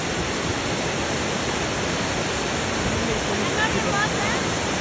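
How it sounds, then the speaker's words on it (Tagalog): Steady broadband rush of Natsudan Falls, a waterfall, fills the scene evenly from start to end, loud and close with no breaks. "nandito tayo ngayon sa Natsudan Falls"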